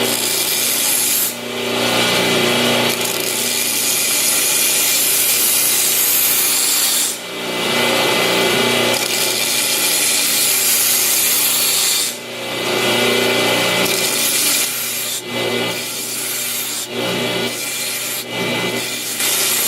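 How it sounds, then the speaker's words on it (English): Grinding a straight line on a damaged knife edge: loud, harsh abrasive rasping from a power grinder in long continuous passes, broken by a few short pauses, with no talking. "Grind a straight line."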